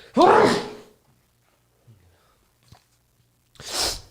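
A sharp, loud sneeze bursts out close by, then quiet with a couple of small knocks, and another forceful sneeze-like burst at the end.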